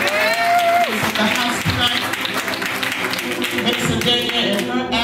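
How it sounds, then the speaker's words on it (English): Church congregation clapping hands for a pastor at an evening service, sustained clapping blended with musical tones and chatter, loud and continuous throughout. "Clap your hands for Pastor Lotus"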